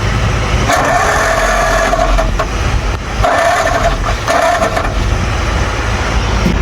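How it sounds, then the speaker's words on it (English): A vehicle engine is cranked over from the little button underneath the starter solenoid, with fuel being dumped on the ground to check it. Three loud, close whirring cranking bursts repeat over a steady rumbling background. "there's a little button under here that turns the engine over"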